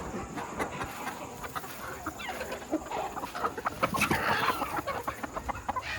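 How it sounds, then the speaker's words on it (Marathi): Country hens cluck and murmur as they settle to roost in the evening, a busy overlapping chorus of short clucks close by, steady throughout with no speech. "खाली बघू शकता खुडू कोंबड्या झालेल्या आहेत."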